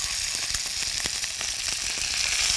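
Chicken skin fries crisp in a pan with a little cooking oil, giving a loud, even, continuous sizzle with faint crackles and light stirring clicks, and no one speaking.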